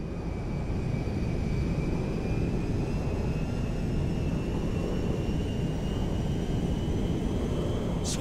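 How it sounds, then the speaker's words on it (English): A cargo jet in GTA 5 landing at an airfield, with a steady, loud, broadband engine roar and a faint rising whine that hold throughout without a break and with no talk. "We are now landing in Mackenzie Field."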